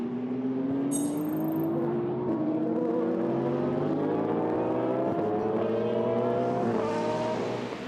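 Race cars at Le Mans, a BMW overtaking a Cadillac, with loud sustained engine whine climbing steadily in pitch as the cars accelerate close by, with no voices over it.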